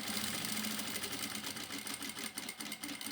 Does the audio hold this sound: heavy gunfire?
no